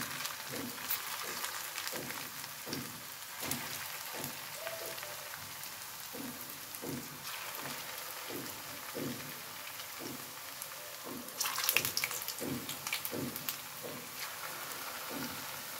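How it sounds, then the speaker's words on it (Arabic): Oil heating in a pan before frying, with a steady broadband crackle and sizzle running throughout, joined by a faint rhythmic tapping and a brief louder burst near the end, no talk. "هانتينا دابا انا جربت هذا الزيت واش سخن"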